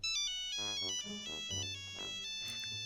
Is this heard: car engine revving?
no